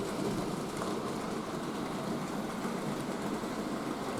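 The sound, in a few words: Hornby model railway Pacific locomotive pulling long train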